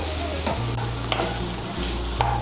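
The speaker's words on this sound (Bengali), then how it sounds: "ছোলা কচুটাকে মশলার সঙ্গে ভালো করে মিশিয়ে নেব" Fried taro (sola kochu) is stirred into spices in a pan for a prawn and taro curry, a close, continuous sizzle broken by a few distinct scraping strokes of the spatula, with no voices.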